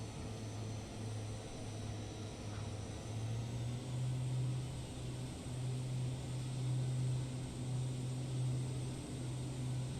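A propeller airplane in a flight simulator game comes in to land on a short runway: a steady, moderately loud engine drone with a low hum that holds evenly throughout.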